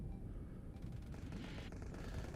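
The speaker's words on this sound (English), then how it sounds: "You can hear all the spraying of gunfire." Rapid gunfire from a space battle in the game Starsector, a dense continuous spray of shots with crackling bursts running throughout at a steady loud level, with no voices.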